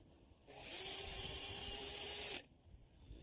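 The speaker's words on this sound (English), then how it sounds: "Amy, what you're doing is drilling pilot holes with a 3/16 wood cutting bit" A power drill with a 3/16 wood-cutting bit bores a pilot hole for masonry screws. It gives one steady, loud, high-pitched whine for about two seconds, then stops abruptly, with no talk over it.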